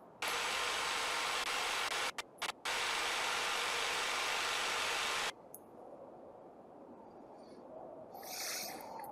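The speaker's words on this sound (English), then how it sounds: "Let's drill right here." An ice auger boring a fishing hole in a fishing simulator game, a loud steady whirring drone with two brief cutoffs, stopping abruptly midway and leaving a quiet hum with faint chirps.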